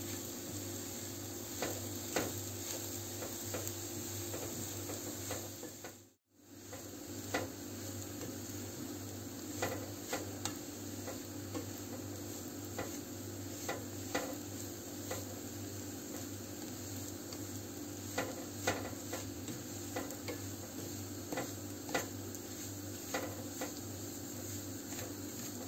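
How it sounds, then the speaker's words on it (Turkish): Semolina being roasted in a pan for milk helva, continuous sizzling with scraping stir strokes throughout, steady and moderately loud, with one brief drop-out near the start. "Arkadaşlar, irmiğimizi bu şekilde sürekli karıştırıyorum."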